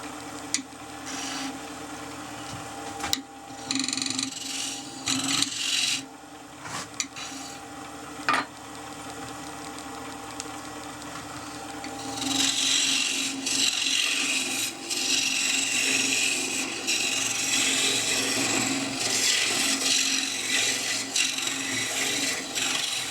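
A spindle gouge rough-turns a pear wood box on a lathe. Scattered rubbing and scraping give way to a steadier, brighter, continuous shearing hiss of the tool cutting the spinning wood.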